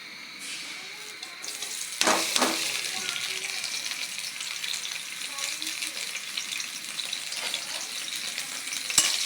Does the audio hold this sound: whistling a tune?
no